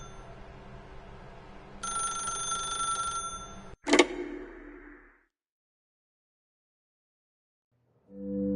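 A telephone rings in the video game The Stanley Parable, a loud electronic bell that trills steadily for a few seconds and then breaks off with a sharp clatter. Quiet follows, and a low tone comes in at the end.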